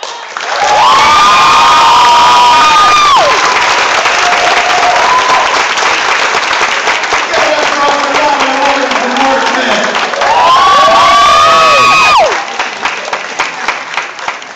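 A high school poetry slam crowd erupts in loud, sustained applause and cheering with whoops and high-pitched shouts, swelling at the start and again near the end, then easing off.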